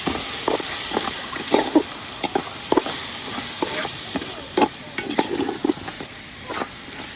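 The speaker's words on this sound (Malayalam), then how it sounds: "നല്ലപോലെ ഇളക്കി കൊടുക്കണം" Rice gets stirred in a pot for mussel biryani, a spoon scraping and knocking in irregular close taps over a constant low sizzle and hiss.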